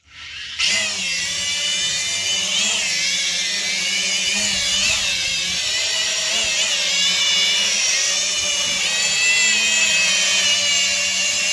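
A drone hovers with a loud, high-pitched whine of spinning propellers, holding steady with slight pitch wavers as it comes in to land, its motors droning continuously.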